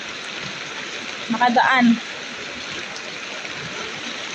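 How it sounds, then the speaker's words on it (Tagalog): Heavy rain pours down in a steady, loud hiss while floodwater rushes through a flooded area, with a brief voice speaking over it partway through. "Nag-uulan ng malakas, ganito."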